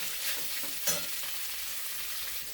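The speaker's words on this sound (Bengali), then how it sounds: "বেশি কড়া করে ভাজবো না, হালকা হালকাই ভাজবো" Pieces of paneer fry lightly in a pan, giving a soft, steady sizzle close up that runs evenly throughout with no voices.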